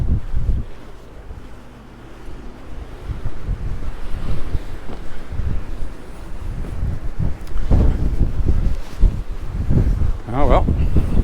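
Strong wind buffets the microphone on a blustery seaside walk in Magaluf, Mallorca, a constant loud rumbling roar with gusts that swell and ease, and occasional faint speech beneath it.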